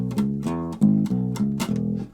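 Guitar picking a short bass line in tune, a handful of low plucked notes in a simple rhythm, close and clear with no talking.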